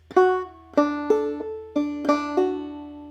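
A clawhammer banjo picks a short run of plucked notes, bright and close, in a steady bouncing rhythm with the strings ringing between strokes.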